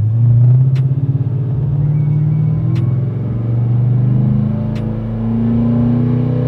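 LSX 454 Impala engine on a dyno in first gear, a loud close, steady rumbling roar with slight rises and dips in revs and a few sharp ticks, no speech over it.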